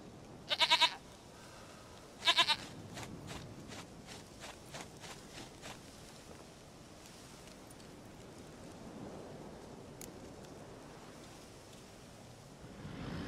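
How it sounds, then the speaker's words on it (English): Two short, sharp goat bleats from The Witcher 3: Wild Hunt ring out close together near the start, followed by faint soft steps and quiet outdoor ambience with no one talking. "Goat of mine, dearest, sweetest goat."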